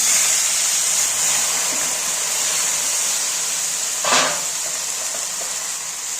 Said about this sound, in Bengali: এবার আমি কচুর শাকগুলো দিয়ে দেব।